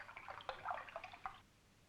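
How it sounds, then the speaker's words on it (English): Colored water pours from a jug into a glass, a faint, brief run of splashy trickling that stops abruptly, with no talk. "Pour the water into the glass,"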